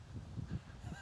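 Geese honk on Chicken Island, several quick, low, nasal honks in a short burst, close and fairly loud with no talking.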